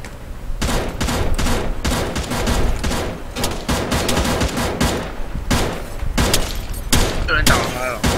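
Rapid volleys of gunfire from an embassy rescue mission in the Arma 3 video game crack loudly and continuously, with overlapping bursts and machine-gun fire throughout.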